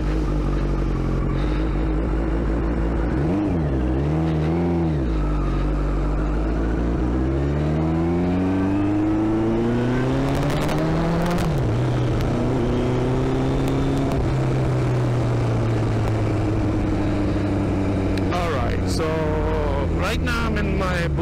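A turbocharged Suzuki Hayabusa motorcycle rated at 330 horsepower rides through lit streets at night, its engine loud and close, repeatedly revving up and dropping back through gears with wind rush, while a rider talks over it.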